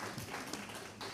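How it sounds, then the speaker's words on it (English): Faint applause from the audience at a European book fair round-table event, a short, quiet spell of scattered clapping in a hall. "Applause, please."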